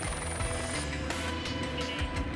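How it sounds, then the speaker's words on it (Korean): A helicopter flying overhead during an aerial tour over the Gwacheon area near Seoul gives a dense, continuous roar with a rotor throb, loud and steady throughout, with no speech. "제작진은 헬기를 타고 최근 뜨고 있는 수도권 로또 분양 후보지를 둘러보기로 했습니다."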